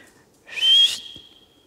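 A single sharp, high whistle blast used to call a dog rings out loudly, then trails off into a thin sustained tone, with no voices around it.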